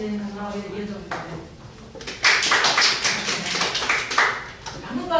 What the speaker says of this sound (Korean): 박수를 좀 알려주세요.